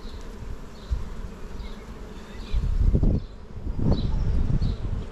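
Honeybees buzz steadily nearby, a dense droning swarm with low rustling and occasional bumps from handling frames close to the open hive.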